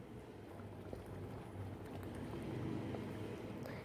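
Water and rice simmer together in a pot for chicken biryani, a faint, steady bubbling and low hiss close by with no talking.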